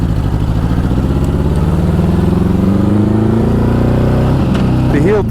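A 1984 Honda Goldwing motorcycle engine runs steadily up close, its mid-pitched drone rising and falling slightly, with a few uneven pops and stumbles toward the end.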